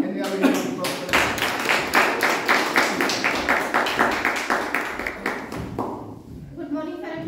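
A Toastmasters meeting audience claps for about six seconds, a dense, steady patter of many hands with rhythmic pulses, then fades as a voice begins speaking near the end.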